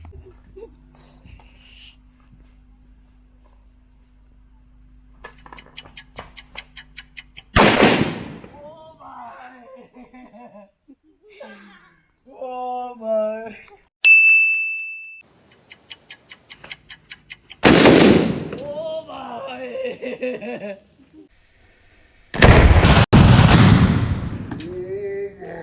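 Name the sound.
small firecrackers bursting during Diwali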